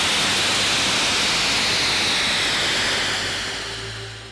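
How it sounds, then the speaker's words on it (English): A snow-making machine at the Mountain Creek ski resort in New Jersey sprays high-pressure water and air through a nozzle, making a loud, steady rushing hiss that eases slightly toward the end, with no voices. "pumping high-pressure water and high-pressure air through a nozzle to create somewhat of a mist that forms crystals in cold temperatures"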